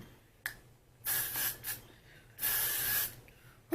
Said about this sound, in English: I took some of my holding spray